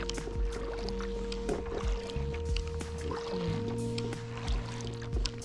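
A kayak is paddled across calm, mirror-flat river water, with soft repeated paddle strokes and gentle water swishes close by. A steady faint tonal hum runs underneath.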